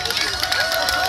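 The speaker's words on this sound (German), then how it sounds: "Und donnernden Applaus." Brief, dense burst of audience applause at an award ceremony for a bathtub race at a water festival in Leipzig, loud clapping with crowd noise throughout.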